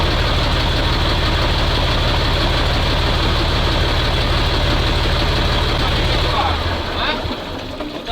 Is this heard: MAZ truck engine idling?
yes